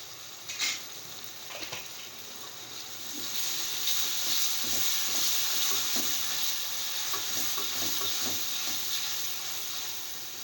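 Fresh garlic ginger paste dropped into hot oil in a pan, a soft clatter followed by a loud, steady hissing sizzle that holds close and even for several seconds.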